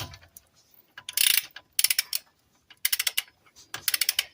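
A ratcheting torque wrench tightens U-joint caps toward 80 foot-pounds underneath a 1998 Ram 1500, making four loud bursts of rapid metallic clicking separated by short pauses, heard close up with no talking.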